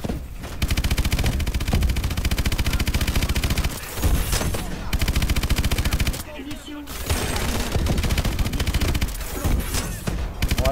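Dense, continuous bursts of rapid gunfire from Call of Duty: Advanced Warfare on PS4, loud and almost unbroken with brief pauses between volleys.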